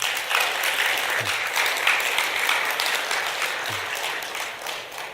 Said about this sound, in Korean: 우리 지호 스님께 박수 한번 보내주시죠.